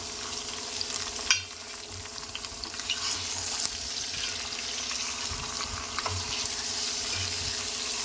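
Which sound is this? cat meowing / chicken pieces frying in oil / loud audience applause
chicken pieces frying in oil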